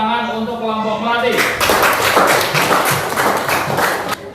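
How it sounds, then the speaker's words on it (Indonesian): A group applauds Kelompok Melati during a school class project session: after a brief voice at the start, a burst of loud, close clapping from many hands fills the rest, steady and dense. "beri tepuk tangan untuk kelompok melati"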